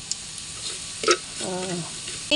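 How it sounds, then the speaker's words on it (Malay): Hot oil crackles and sizzles softly as anchovies fry, with a few pops and a brief burst of stirring, while a voice murmurs faintly underneath. "Tuang minyak, kita goreng ikan bilis dulu kat tepi ni."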